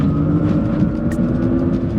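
A GMC Hummer EV electric truck pulls away hard on a rough road, a steady loud drone of motor whine and road and tire roar with no talking.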